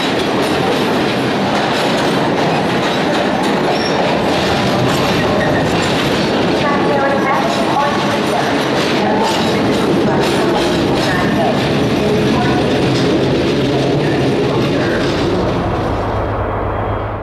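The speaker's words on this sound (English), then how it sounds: "It's shortly after 7 o'clock when the train is taken downtown to the station to load our passengers." A Pullman passenger train rolls along the tracks, giving a loud, continuous rumble with rhythmic clickety-clack from the wheels and occasional metallic squeals throughout.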